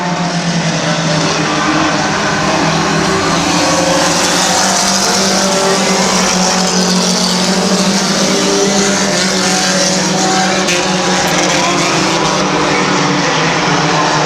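Race cars roar around the Midvale Speedway track, a loud continuous blend of many engines droning and buzzing together, steady and dense from start to finish with no pause.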